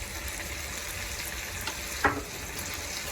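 Potatoes fry in a pan, giving off a steady close sizzle, and a single scrape of stirring cuts through about two-thirds of the way in.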